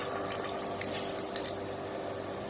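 Water pours steadily from a tap into a pot of curried mutton, a continuous, even splashing trickle with no voices.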